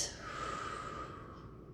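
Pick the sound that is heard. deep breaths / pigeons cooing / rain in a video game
deep breaths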